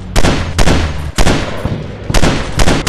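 Gunfire in an Android robot first-person shooter game: loud bursts of rapid automatic shots in several volleys separated by brief pauses, close and dominant.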